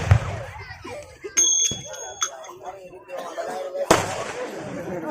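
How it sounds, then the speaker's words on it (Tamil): Sharp firecracker bangs pop out amid chatter, with one loud burst near the end, all under people talking nearby. "வெடி வெடிக்கிறாங்க வாடா"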